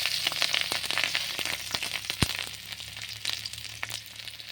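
Garlic hits a hot wok in a Bengali home kitchen while pointed gourd is being fried, giving a steady close sizzle with crackling pops and one sharp clatter in the middle.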